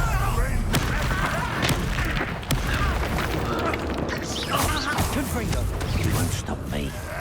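Confringo fire spell bursting in the Hogwarts Legacy video game, loud booming blasts amid dense mechanical clatter and creaks during combat, with voices in the mix.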